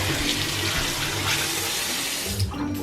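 Tap water runs steadily into a kitchen sink during hand washing, a continuous broadband splash with small shifts in flow and a brief surge near the end.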